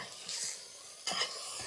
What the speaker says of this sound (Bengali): মাংসটা দিয়ে দিলাম। এবার সুন্দর করে একটুখানি নাড়িয়ে নিই।